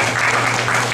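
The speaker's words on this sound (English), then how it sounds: "Okay, let's give her a round of applause." Brief burst of audience clapping at an opening-remarks session, dense and steady over a low hum, with no clear speech.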